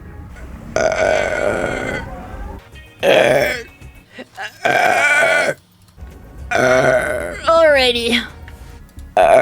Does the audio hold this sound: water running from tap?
no